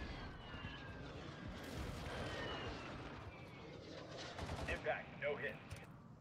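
Gunfire in the Warzone Mobile video game crackles through a dense, noisy battle mix, with a few sharper reports standing out near the end; a player talks throughout.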